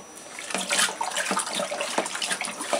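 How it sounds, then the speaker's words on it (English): Yeast is dropped into raspberry mead and stirred hard, producing close, continuous liquid swishing and sloshing with rhythmic surges. "So we're just going to dump the yeast straight in as it is. We're going to stir the shit out of it."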